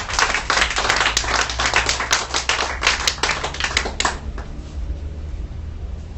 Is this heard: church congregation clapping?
yes